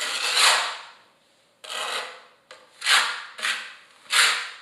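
A trowel spreads thin mortar across a floor for large-format tile, making five scraping strokes in an uneven rhythm. The scrapes are close, fairly faint and rasping, with short quiet gaps between them.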